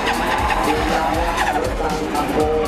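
A race car skids through the final corner with screeching tyre squeal and engine noise, loud and continuous, under excited commentary.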